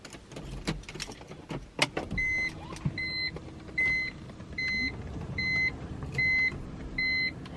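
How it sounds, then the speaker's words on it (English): A BMW E46's AC blower fan steps through its speeds, its steady whoosh rising and falling in blocks while a repeated electronic chime sounds alongside, after a few clicks and knocks at the start. "You can test everything out by just turning on the AC, heater, or whatever you want to turn on, and the fan should be working at all speeds"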